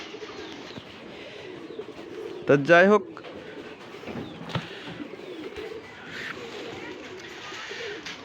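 Pigeons give a short, loud burst of throaty cooing near the middle, with faint bird sounds around it, while a person talks across the rest.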